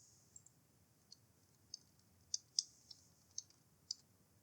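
Light key clicks from a computer keyboard come as about ten quiet, irregular taps over a near-silent background while a search term is typed, with no voices.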